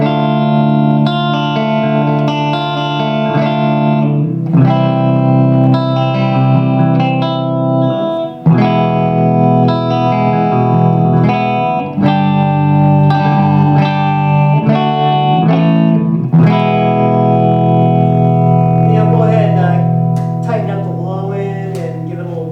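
An electric guitar plays a clean, flat tone through an Egnater Vengeance amplifier, with sustained chords and notes ringing close and loud, separated by brief pauses between strums.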